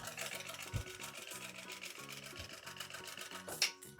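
A domestic sewing machine stitches the straight front edge of a fabric pocket for a children's car organizer, a steady fast mechanical whirr with small pauses and a brief louder clack near the end.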